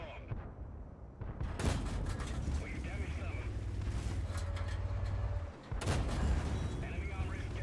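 Two heavy tank cannon blasts about four seconds apart in World of Tanks, from an Excelsior tank on the Murovanka map, loud and close, over a constant low engine rumble and scattered battle noise.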